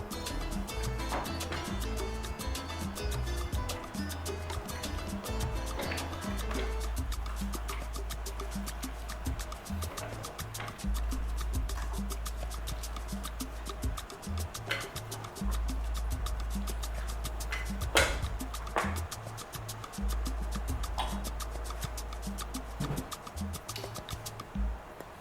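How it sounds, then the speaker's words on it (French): Broth for birria ramen ladled from a pot with a big spoon, a steady liquid pouring and dribbling sound with faint drips, close and continuous with no voices. "j'ai pris une grosse cuillère, puis tout ce que j'ai fait c'est mettre le bouillon dans le ramen"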